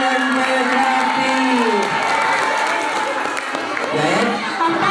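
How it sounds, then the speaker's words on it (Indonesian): Audience at an Islamic kindergarten and Quran school (TKQ/TPQ) gathering applauds and cheers for Abi, a continuous crowd roar with children's shouts and voices mixed in, loud and steady throughout. "Tepuk tangan sekali lagi untuk Abi."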